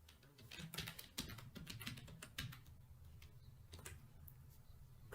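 Rapid bursts of keystrokes on a computer keyboard as a file name is typed, clicking close and fairly loud in uneven runs with short pauses between groups.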